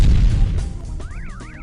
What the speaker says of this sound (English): Trying to make our spots sound more exciting by adding explosions.